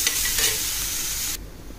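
Onion, green chilli and ginger garlic paste sizzle and fry in a pan while being stirred, a loud close hiss that cuts off abruptly near the end.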